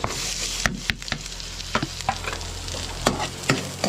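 Garlic and onion fried with chicken in a clay pot for dinuguang manok: steady sizzling with repeated sharp scrapes and knocks of a utensil stirring against the pot, fairly loud and close, no talking.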